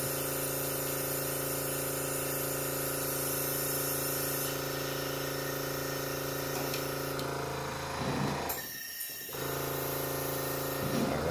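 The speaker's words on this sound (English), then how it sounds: "Go ahead and give it some airbrush cleaning." An airbrush sprays out leftover paint during cleaning, a loud, steady hiss of air with a whirring compressor beneath, cutting out briefly near the end before resuming.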